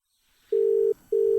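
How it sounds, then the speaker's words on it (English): Two long, steady electronic tones from a telephone line, like a ring signal, sounding close and clear. "It's ringing."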